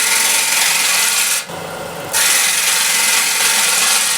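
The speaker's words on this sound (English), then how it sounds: "So I'll use the right wing as a scraper" A gouge's wing used as a scraper rasps steadily against a spinning 11-inch osage orange bowl on a lathe, loud and continuous with a brief quieter gap midway before the scraping resumes.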